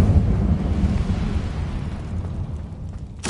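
An Incendio fire spell goes off in the Hogwarts Legacy video game, a loud rumbling burst of flame that fades over a few seconds, with a sharp crackle right at the end.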